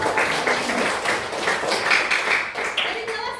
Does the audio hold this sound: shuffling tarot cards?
no